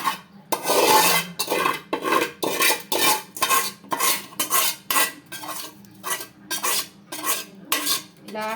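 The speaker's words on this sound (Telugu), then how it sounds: "ఇప్పుడు ఈ రైస్ అంతా కూడా ఒకసారి ఇలా కలిపేసుకోవాలండి" A spoon scrapes steadily through spiced coconut rice in a metal pot, in regular, rhythmic strokes up close, with no talking.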